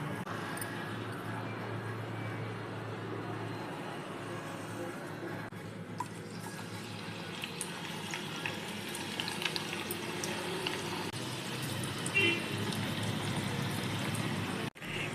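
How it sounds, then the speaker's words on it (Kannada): Onion pakoras fry in hot oil, giving a steady close sizzle and bubbling hiss that runs unbroken from start to finish with no voices. "ಎಣ್ಣೆ ಕಾದಿದೆ. ಈಗ ಪಕೋಡಗಳನ್ನು ಹಾಕ್ಕೊಳ್ಳೋಣ."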